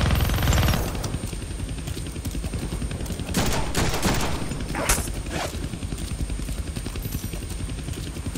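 Minigun firing in the Deadpool video game, a continuous loud rapid-fire roar sustained throughout, with sharper impact bursts layered on top, close and dense.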